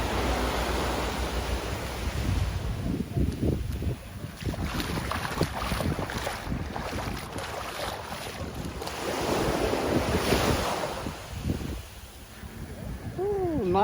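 Waves break and wash up on a beach in Barbados, a steady roar of surf with wind buffeting the microphone, swelling and easing over several seconds.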